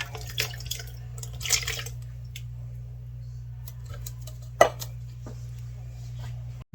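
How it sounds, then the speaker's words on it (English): Canned diced tomatoes are tipped into a pot of birria with soft wet plops, light drips and one sharp metallic clink near the end, fairly close and with no voices. "We're going to do a can of diced tomatoes"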